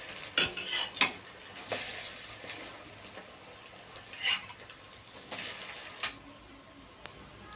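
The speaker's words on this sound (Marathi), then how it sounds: "थोड्या वेळानंतर हे ब्रेडचे काप आपण परतून घ्यायचे आहेत." Egg-dipped bread slices fry in oil on a pan with a faint sizzle beneath sharp metallic clinks and scrapes of a utensil against the pan, sounding close and irregular.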